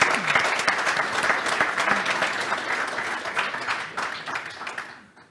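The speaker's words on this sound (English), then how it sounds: "please join me in giving them a well-deserved round of applause" An audience at a maritime committee panel on greener shipping gives dense, sustained applause that holds steady for several seconds and then tapers off at the end.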